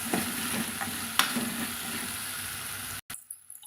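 Sliced red okra sautés in a pan while being stirred, a bright, continuous sizzle broken by a few utensil scrapes. It drops out abruptly near the end, then returns quieter and patchy.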